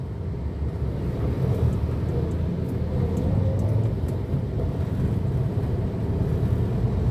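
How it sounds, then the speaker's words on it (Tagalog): Road traffic passes outside in the rain in Marikina near Riverbank, a continuous low rumble of vehicles with a steady wash of rain noise, fairly loud and unbroken, no voices. "Marami pa rin sasakyan sa labas."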